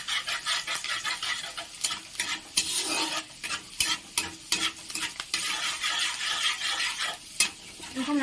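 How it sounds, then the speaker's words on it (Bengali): Chopped ginger and garlic fry in a pan for a dhaba-style egg tarka, with a soft sizzle under repeated scraping stirring strokes and occasional sharp clinks. "এর সাথে দিয়ে দিলাম আদা কুচি, একটু হালকা হালকা করে"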